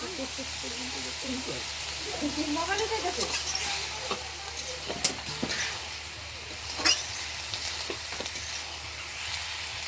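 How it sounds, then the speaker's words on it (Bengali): Chicken pieces braising in oil in a pan while being stirred and turned, with a steady close sizzle broken by scraping strokes and a few louder clatters of the spoon against the pan. "মাংস দিয়ে দিলাম এখন ভালো করে কষিয়ে নিব মাংসটা"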